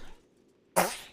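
A single sharp sneeze bursts out close and loud after a quiet moment, with faint background sound before it.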